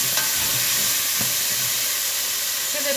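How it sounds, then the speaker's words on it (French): Beef meatballs browning in a pan alongside sautéed vegetables, a steady close hiss and sizzle with a few brief stirring clicks, no talking. "je vais faire rôtir mes boulettes de viande. Voilà, mes légumes sont revenus."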